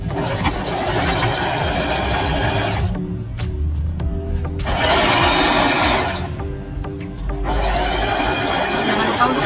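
Domestic sewing machine stitching a seam on fabric, a steady whirring run in bursts with short pauses between, close and fairly loud.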